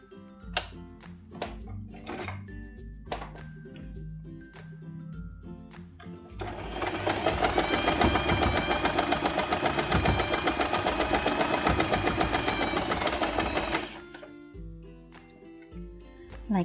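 Sewing machine stitching fabric for a toddler's turban hat with a regular stitch, running in a loud, steady, rapid burst for several seconds between quieter clicks and handling noises.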